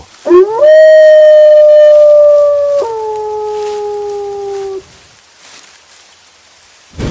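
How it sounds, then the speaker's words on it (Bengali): Cartoon sound effect of a jackal howling, one long rising-then-falling wail that holds a steady pitch before dropping lower and fading, heard over light rain with a brief noise at the end. "দূরে ভয়ানক শিয়ালের ডাক শোনা গেল।"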